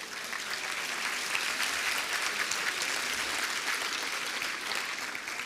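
Sustained audience applause fills a theatre at a season presentation, a dense, steady wash of clapping from a large crowd that stays even and loud throughout with no voices breaking through.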